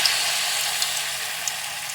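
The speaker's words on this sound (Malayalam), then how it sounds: "തിളച്ച എണ്ണയിലോട്ട് അങ്ങോട്ട് പതുക്കെ ഇട്ടു" Bean-filled sweet balls, a hybrid of sukhiyan and modakam made from boiled gram, frying in a pan of hot oil, giving a steady close bubbling sizzle throughout with a few faint clicks and no talking.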